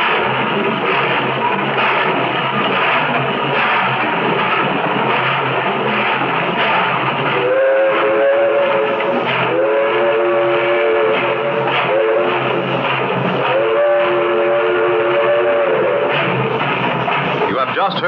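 Steam train whistle and rail rumble as a sound effect in an old time radio drama, a dense chugging noise with repeated whistle blasts in the second half, loud and continuous.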